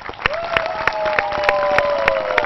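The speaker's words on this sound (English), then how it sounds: "Give them a huge round of applause." Studio audience applauding quiz finalists from Delhi Public School, Bokaro, on a televised school quiz show, a steady wash of clapping blended with a sustained musical tone and regular rhythmic beats.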